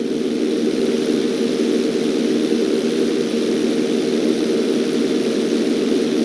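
Propeller airplane engine droning steadily through an inside loop stunt in GTA 5, a loud constant buzzing hum with no break and no talk.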